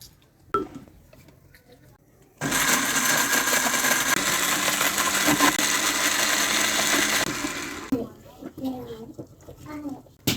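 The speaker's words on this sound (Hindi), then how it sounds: "अभी हम रोटी के जो पीसेस हैं उनको ग्राइंड कर लेते हैं" A kitchen grinder whirs loudly as it grinds leftover roti pieces, a steady dense roar of several seconds framed by quieter clatter and handling noises before and after.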